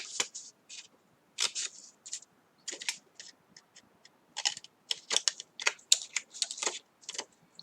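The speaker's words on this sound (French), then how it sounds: "je coupe mes languettes ici, comme ceci, en biseau" Cardboard tabs for a homemade treat box are snipped at an angle: a quick, irregular run of sharp, crisp cuts and clicks, close and fairly quiet, with no talking.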